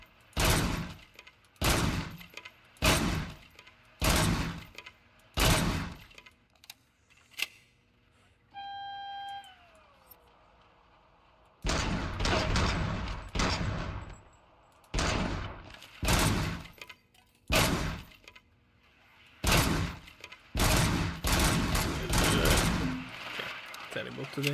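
Repeated bursts of gunfire from the RoboCop video game, loud and close, coming in rhythmic volleys with a brief lull partway through, then dense rapid firing again.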